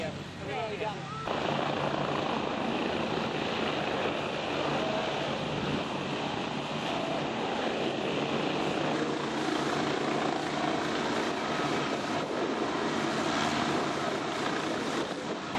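An aircraft flying at the 2001 Texel airshow, heard as a loud, steady propeller-engine drone that runs unbroken for the full length, with people's voices faintly underneath.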